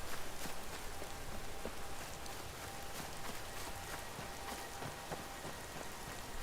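Rain in the video game Skyrim falls steadily in a cold, foggy scene, a soft, constant hiss of drops with faint scattered patters, continuous throughout and without talk.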